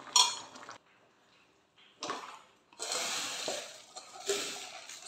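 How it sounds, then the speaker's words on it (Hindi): Water from pumpkin for raita splashes and drains through a metal strainer in bursts, with clinks and rattling of metal against a pot, close by and without talk. "अब इसका हम पानी निकाल लेंगे छन्नी की सहायता से।"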